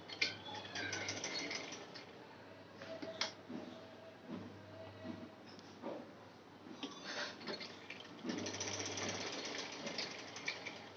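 A sewing machine sews a triangle-folded seam on salwar fabric in several short, quiet bursts of whirring stitching, separated by brief pauses. No one speaks.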